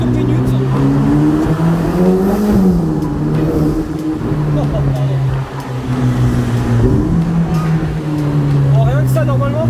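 A car downshifts to first gear inside the Monaco tunnel, its engine note rising and falling through revs with a strong, close, echoing hum while someone talks over it.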